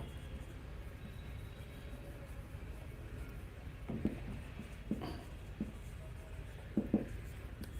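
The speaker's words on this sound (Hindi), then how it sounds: "लिख ही देते हैं।" Handwriting during a grammar lesson: faint scratchy strokes and a few soft taps of a pen, spread out and quiet over low room noise.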